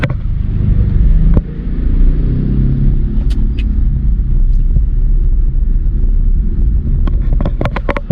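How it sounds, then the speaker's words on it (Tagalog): Heavy night traffic on the road to the Calamba toll gate from Santa Rosa: a steady low rumble of engines heard from inside a vehicle, with occasional sharper clicks and knocks over the continuous drone. "Ang haba ng traffic simula Santa Rosa hanggang dito sa toll gate ng Calamba"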